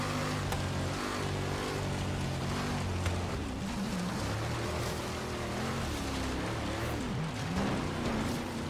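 A lowered, six-speed race-prepped Chevy Impala SS 409 in Forza Horizon, engine droning steadily and loud throughout with pitch rising and falling as it shifts through gears.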